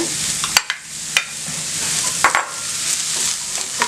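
Chow chow (chayote) pieces frying and stirred in a pan, a steady close sizzle broken by a few sharp scrapes and clinks of the spoon against the pan.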